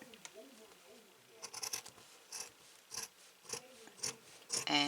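Sharp scissors snip through crochet yarn in a few quick, close cuts that come in small bursts near the end, with quiet handling sounds and a soft voice in between.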